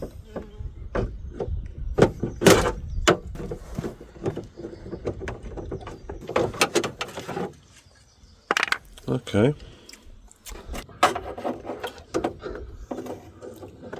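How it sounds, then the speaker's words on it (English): Door lock being removed from a Skoda Felicia car door: close clicks, knocks and rattling metal mechanism sounds in irregular bursts, with someone speaking briefly. "Taking the door lock out."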